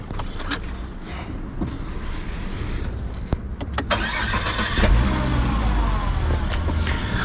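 A Volvo S80 II car is started, its engine cranking and catching into a steady idle under broadband mechanical noise, with a few sharp clicks and creaks from the vehicle nearby.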